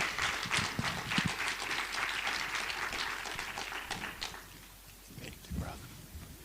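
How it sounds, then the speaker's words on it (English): Applause from a live audience welcoming a speaker to the stage at a public event, a fairly dense patter of clapping that thins out toward the end. "Round of applause."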